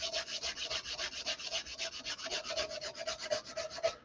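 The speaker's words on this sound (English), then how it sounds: "It's only sanding on those sharp edges as I'm pulling down and pushing pressure" Sandpaper rubbing steadily along the sharp edges of a full tang knife handle, a close, continuous series of rapid back-and-forth scratchy strokes with no talk.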